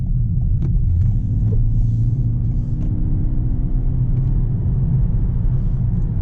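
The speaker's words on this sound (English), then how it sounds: "I'm gonna just do a quick acceleration from here." A 2020 Toyota Corolla Hybrid with a CVT gearbox accelerating, heard from inside as a steady low engine and road rumble that stays smooth and even, with a few faint clicks and no talk.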